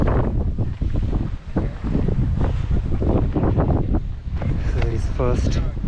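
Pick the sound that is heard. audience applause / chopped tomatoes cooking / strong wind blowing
strong wind blowing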